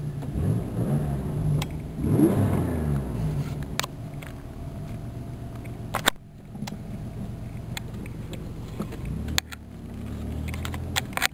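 A 1990 Chevrolet Cavalier Z24 engine idles unevenly, its steady, close hum swelling and sagging in pitch as the revs climb toward redline and drop back.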